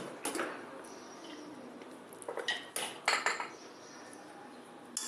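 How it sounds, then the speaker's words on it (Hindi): A pressure cooker of boiled chickpeas is opened in a home kitchen, giving a few metallic clinks and clatters of the lid and utensils against a quiet background, with a final sharp knock. "अभी हम कुकर खोल देते हैं।"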